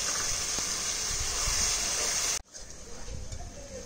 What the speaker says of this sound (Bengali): এবার একটু অল্প করে জল দিয়ে মশলাটাকে ভালো করে কষিয়ে নেব